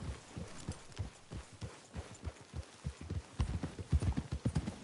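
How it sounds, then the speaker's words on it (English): Horse hooves clip-clop steadily in a GTA game, a quick rhythmic run of low thuds that grows louder and busier toward the end. "Get a hold of that horse, will you?"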